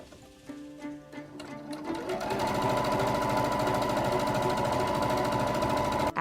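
A sewing machine stitches fabric squares together for a dog bed with 1/2 inch seams, starting with a few quiet taps and then running into a loud, steady, continuous whir with no talking.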